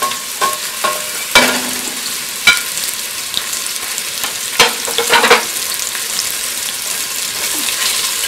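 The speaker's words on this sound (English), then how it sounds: "So here I have some olive oil, and to this I'm going to add our beef." Pieces of flour-dusted beef hitting hot olive oil in a pan and browning, a loud continuous sizzle heard up close, with scattered clatters and scrapes as the meat is added and moved.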